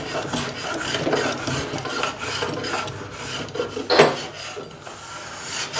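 Abrasive rubbing on a hard oak door edge to knock down high spots, with repeated back-and-forth rasping strokes in a steady rhythm, close and fairly loud, with a sharper scrape near the end.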